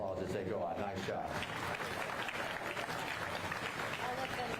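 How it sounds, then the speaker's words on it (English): A crowd claps steadily at a county fair beef show, sustained applause filling the space while an announcer's voice talks over it. "Let's give them a round of applause as they go out."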